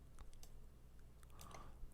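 A computer mouse clicks faintly a few times, small, sharp, isolated ticks in a quiet room, ending with a slightly louder click.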